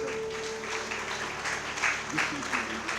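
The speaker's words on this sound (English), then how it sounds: "Let us have a round of applause, please." Applause from the audience at a book release event, a soft, steady clapping texture with a few slightly stronger bursts, heard at a distance for about three seconds.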